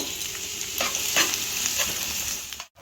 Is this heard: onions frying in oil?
yes